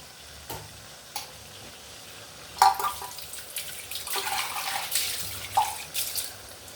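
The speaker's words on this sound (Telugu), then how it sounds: "దీంట్లో చింతపండు పులుసు పోస్తున్నానండి" Tamarind juice poured into a pan of curry on the stove, with a low simmering sizzle, a few utensil taps, then a rising splashy liquid hiss of the pour over the last few seconds, close and without talking.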